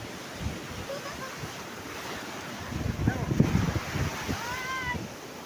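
Large sea waves break and wash along the shore under gusty wind noise, a rough, swelling roar that builds toward the end, with voices and a few high cries mixed in.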